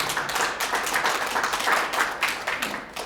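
Steady applause from a group, dense and fairly loud, with a continuous wash of clapping that holds throughout.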